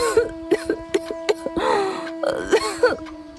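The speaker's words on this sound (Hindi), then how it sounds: "उसकी पत्नी राधा, जिसे टीबी थी, वो हमेशा खांसती रहती थी।" A woman with tuberculosis, voiced in an animated story, coughs and clears her throat in a run of harsh, rasping bursts with strained groaning breaths, close and loud over a faint steady hum.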